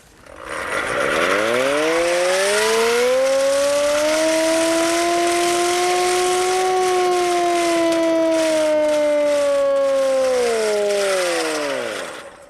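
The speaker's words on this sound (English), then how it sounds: "his job to sound the air attack was imminent using the hand operated siren" A hand-cranked Royal Observer Corps air raid siren winds up from low to a loud sustained wail, holds for several seconds, then winds back down as it slows.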